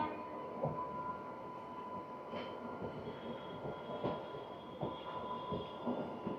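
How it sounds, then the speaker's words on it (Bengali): Shantiniketan Express and Falaknuma Express running in parallel, both hauled by WAP7 electric locomotives: a steady rumble of passing rail cars with periodic wheel clatter over joints and faint squeals, moderately close, no talk. "ফলকনামা এক্সপ্রেস, ফলকনামা এক্সপ্রেস আর শান্তিনিকেতন এক্সপ্রেস প্যারালালি রান হচ্ছে।"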